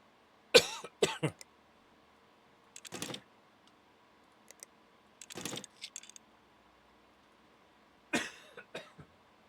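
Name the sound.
cough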